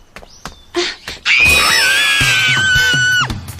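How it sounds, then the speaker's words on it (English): A character in the anime Law of Ueki lets out a loud, sustained, high-pitched scream lasting about two seconds, following a few short bursts of sound. "What are you screaming about?"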